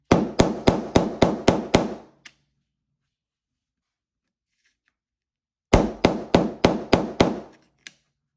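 Two bursts of rapid hammer taps on a covered piece of a seasonal tray, about seven sharp, evenly spaced blows each, separated by a quiet pause, with a final lone tap at the end.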